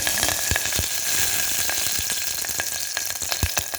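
Green chillies and curry leaves frying in hot oil with popping mustard seeds, a dense close sizzle punctuated by sharp spitting pops scattered irregularly through it.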